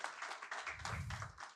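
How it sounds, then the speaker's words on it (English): An audience at a talk by a UPSC civil services topper claps in a steady patter of many hands, moderately loud and close, with a low murmur underneath toward the middle. "Huge round of applause, everyone."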